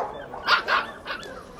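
A poodle barks three times in quick succession, close and fairly loud, with no other sound around it.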